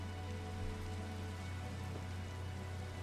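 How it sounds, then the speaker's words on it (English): Rain falling in Minecraft: a steady, quiet hiss of rainfall over a low constant hum, with no talking. "It's raining."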